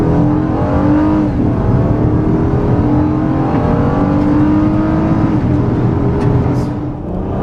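A 2013 Honda Crosstour in sport mode accelerating hard from a standstill toward 60 mph, its engine droning loud and close inside the cabin, climbing steadily in pitch through the gears.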